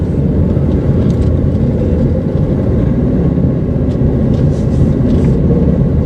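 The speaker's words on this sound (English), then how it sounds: "There's a car coming now." A car approaches on a steep mountain auto road, heard as a loud, steady engine and tyre rumble that stays close throughout.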